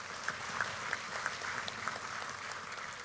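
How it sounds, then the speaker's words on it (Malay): An audience at an UMNO political speech applauds, a dense, even patter of many clapping hands lasting about three seconds with a few sharper claps standing out. "tepukan untuk mereka"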